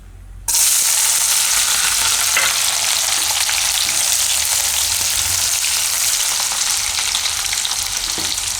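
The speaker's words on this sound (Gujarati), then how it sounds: "તો તેલ આપણું ગરમ થઈ ગયું છે, તો એમાં આપણે પહેલાં નાખશું મરચાં" Green chilies dropped into hot oil for tempering burst into a loud, dense sizzle that starts abruptly and hisses on steadily without a break.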